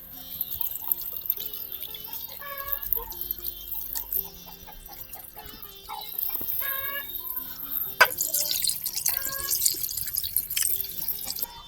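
Tamarind juice poured into a pan of brinjal and dry fish curry, a close trickling, dripping liquid sound running for several seconds with faint background noise.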